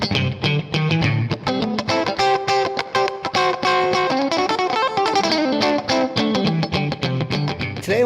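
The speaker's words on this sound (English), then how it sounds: "If you heard these guitar tones, would you think they were from a Strat, or would you think they're from a Les Paul?" An electric guitar played through a distortion effect rings out in loud, choppy strummed chords and riffs. The sharp rhythmic attacks continue for the whole stretch.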